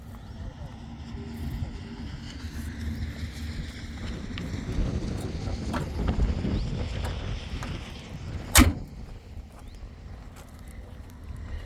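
Wind rumbles and buffets the microphone in a steady low roar, swelling in the middle, with a brief sharp knock near the end, recorded from a moving Tata Safari Storme on the highway.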